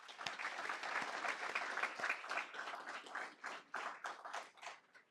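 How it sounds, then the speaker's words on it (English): Audience applause for high school wrestlers at a school board meeting, steady crowd clapping filling the room for about five seconds before tapering off slightly. "Everybody give them a round of applause."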